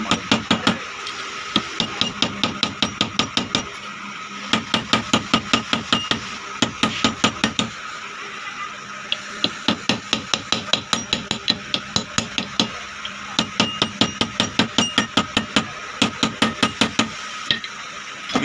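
Rapid metallic hammer blows as a bush is driven onto a shaft on a vise during repair of a Siruba overlock sewing machine, loud and close, rhythmic strikes in long runs with short pauses.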